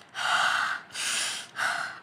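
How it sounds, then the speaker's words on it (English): A person breathes hard, three loud, close, airy breaths in a row with short pauses between, each a long forceful rush of air and no speech. "I am breathing hard."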